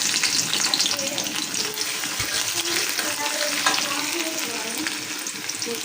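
Chopped garlic and onion sizzle in hot oil for a dal tempering, a loud, dense, continuous frying hiss close by with faint stirring underneath.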